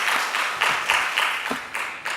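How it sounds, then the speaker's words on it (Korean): A church congregation at a Sunday morning service marking the church's fifth anniversary claps in a steady rhythmic beat, about eight even bursts of applause sounding close and fairly loud with no talking. "우리 하나님께 영광의 박수 올려드리도록 하겠습니다."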